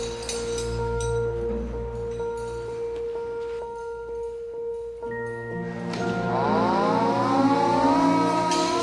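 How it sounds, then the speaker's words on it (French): A factory air raid siren wails to warn workers of bombing, a loud sustained tone with harmonics that holds steady, then rises in pitch as it winds up again, with no talk. "une sirène prévenait les travailleurs des bombardements"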